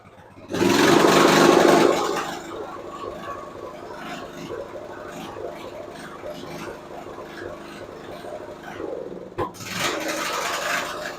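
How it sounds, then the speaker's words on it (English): An old Murray riding mower engine running with a newly installed carburetor, a loud burst of engine noise at the start easing into a steady mid-level idle with clattering, then rising again near the end. "so we got the old mower running"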